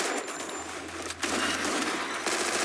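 Gunfire in the mobile shooter game Free Fire, rapid bursts of automatic weapon shots heard fairly quietly, forming a dense rattling stream with a brief pause in the middle.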